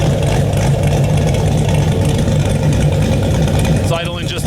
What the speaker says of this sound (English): It's idling just under 800, I got it set at 780 or so.